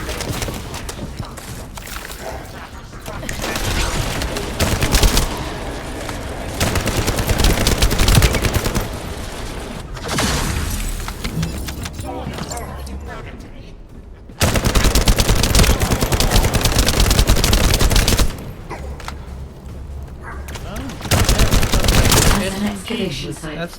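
Tactical rifle fire in The First Descendant: repeated loud bursts of rapid gunfire separated by short pauses, punchy and close, with occasional talk in between.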